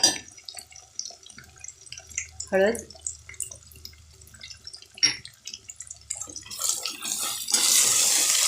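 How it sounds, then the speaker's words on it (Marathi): Water poured into rice in a pot while cooking fodnicha bhaat, with scattered drips and splashes building into a steady pouring rush near the end, while someone speaks briefly. "आता यात आपल्याला पाणी घालून द्यायचं."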